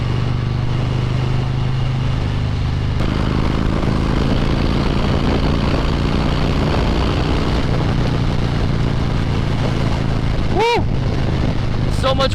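A 2020 Harley-Davidson Road King Special motorcycle rumbles steadily while riding onto a highway, loud and close with heavy wind rush, a brief sharp chirp near the end.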